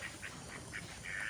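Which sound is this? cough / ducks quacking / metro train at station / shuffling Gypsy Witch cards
ducks quacking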